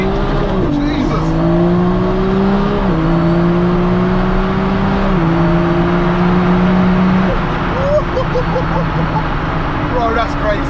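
The engine of an MK4 Toyota Supra fitted with a dual-clutch gearbox roars loud and close, climbing in pitch and dropping sharply at each of several quick gear changes, while people talk in the car.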